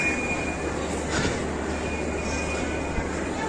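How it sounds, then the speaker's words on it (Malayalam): A passenger train departs with a steady, continuous rumble close by, a thin high whine running throughout and a brief clatter partway through; no clear talking. "ട്രെയിൻ വിടാൻ പോകുന്നു"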